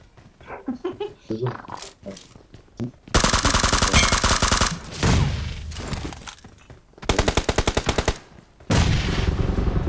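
Rapid automatic gunfire from the battle-royale game PUBG, loud bursts of machine-gun fire alternating with pauses and scattered single shots, with a voice chattering between the volleys.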